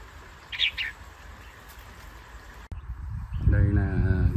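A decoy bird gives a few short chirping calls out in a forest, first as two faint bursts and then in a louder run of call notes near the end, over low background noise.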